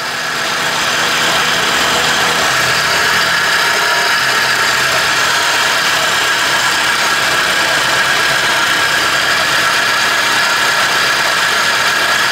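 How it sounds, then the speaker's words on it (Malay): A car engine idles smoothly and quietly after its water pump, O-ring and coolant have been replaced, warmed up to normal temperature; a steady, even mechanical hum runs close and constant throughout with no voices. "Untuk kes ni enjin run smooth dan senyap."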